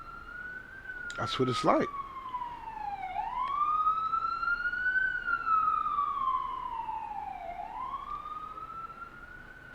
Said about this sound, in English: These sirens go off. Where I live at, these sirens go off all day or night. Ambulance, police, and firemen